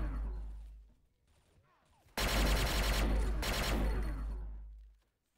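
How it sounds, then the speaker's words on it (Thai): Sustained burst of rapid gunfire in a competitive online shooter game, loud and dense for about three seconds with a brief dip midway, preceded by quieter scattered shots and footsteps. "เสียงยิงโดนเมื่อกี้ทางนี"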